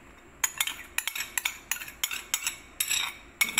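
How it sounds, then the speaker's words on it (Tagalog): A utensil clinks and scrapes rhythmically against a bowl while fern salad is tossed with a sweetened vinegar dressing, about a dozen close, crisp taps in quick succession with no talk. "So, haluin lang po natin."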